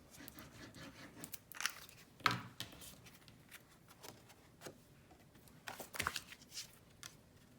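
Scissors snip along the edges of a handmade paper card, a few quiet, scattered cuts with soft paper rustling and handling between them.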